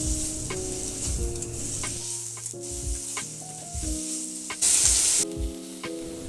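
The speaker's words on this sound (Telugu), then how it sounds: "బాగా ఫ్రై చేద్దాం" Capsicum, onion, cumin and green chillies fry in hot oil with a steady sizzle and a few stirring scrapes, heard under background music.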